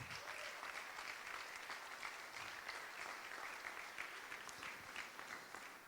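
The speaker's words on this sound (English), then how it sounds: "Give everybody a big round of applause." Steady audience applause at a twentieth-anniversary charity gala, a dense even patter of many hands clapping continuously throughout, heard at a moderate distance.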